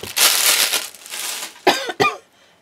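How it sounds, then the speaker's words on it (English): A person coughs nearby: a long rough burst, then two short sharp coughs, with a brief pause between them. "There might be some coughing involved."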